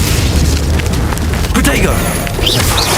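Confringo blasting spell explosions in the game Hogwarts Legacy, heavy booming blasts with rumbling low end and crackling debris, loud and close, with a voice talking over the combat.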